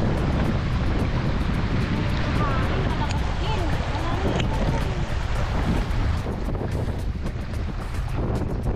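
Strong wind on a hike buffets the microphone continuously, a roaring rush that nearly drowns a voice speaking underneath.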